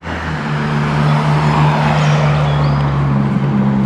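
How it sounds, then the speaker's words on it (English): A car drives slowly down a narrow village road behind walkers, its engine a steady, close, low hum and rumble that holds for several seconds with no speech over it. "There was a car coming down here."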